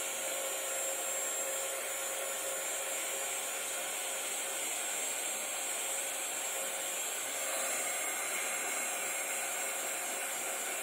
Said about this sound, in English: we're going to again use the heat embosser, and we're just going to start embossing the front of this.